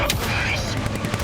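Rapid gunfire rattles through a video game firefight at a facility against enemy angels, loud and dense across the whole brief moment, with voices shouting over it.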